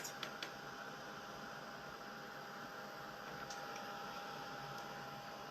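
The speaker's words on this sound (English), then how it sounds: "I love this dryer because it doesn't blow my cutouts all over the place. And it dries them super fast." A craft hair-style dryer blows steadily close by as it dries paper cutouts for a holiday dove project, a constant airy whir with a few faint clicks and no voices.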